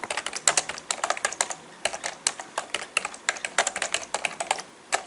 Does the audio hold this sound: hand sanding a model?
no